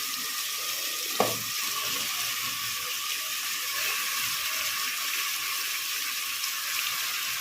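Country chicken frying in a pan with ginger garlic paste for a spicy chicken curry, giving a loud, steady hiss of hot oil with one brief clink early on and no voices.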